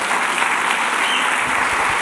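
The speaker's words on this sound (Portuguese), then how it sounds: "Dê um aplauso bem forte ao Senhor." Congregation at a church service applauding the Lord, a steady broadband wash of many hands clapping with no pauses, moderately loud and even throughout.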